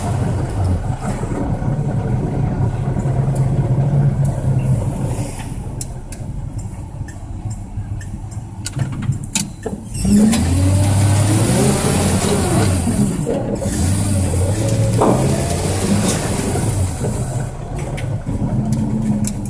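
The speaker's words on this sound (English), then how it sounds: "the truck was running the whole time" Engine of a 1965 Ford F250 pickup truck running steadily for the whole stretch, a continuous mid-pitched rumble with some rattles and a surge partway through, with no talking.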